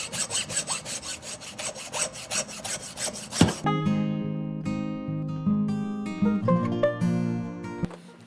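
Rhythmic back-and-forth sawing rasps through deer bone while separating the hindquarters, steady strokes for a few seconds, then the cutting stops and a ringing, tonal hum lingers.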